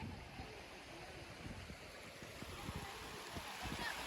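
River water rushes and splashes steadily close by, a continuous broadband wash with small bursts of splashing throughout.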